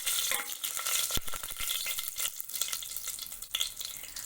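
Whole spices crackle and sizzle in hot oil for green fenugreek khichdi, with dense continuous frying hiss, sharp pops and scraping stirring sounds close up, no talking.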